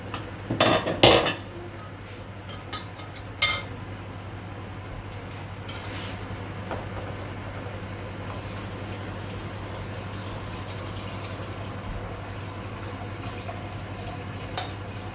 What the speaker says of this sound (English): So I'm now going to add it to the pot.